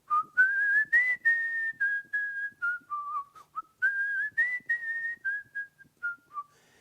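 A melodic whistled tune imitating birdsong, with rising and falling phrases and short trills, clear and close with no other sounds.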